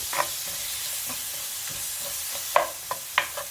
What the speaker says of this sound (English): we're just going to saute this a bit